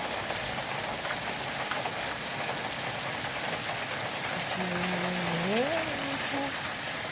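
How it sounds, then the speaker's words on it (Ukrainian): Rain falling outside a window, a constant dense patter and hiss throughout, with a faint tonal sliding sound near the end. "За вікном дощ."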